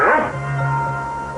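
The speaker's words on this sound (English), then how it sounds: "Hey, nice dog." A dog gives a short, loud, close bark that trails into a whining tone, all within a second and a half, with a steady hum underneath.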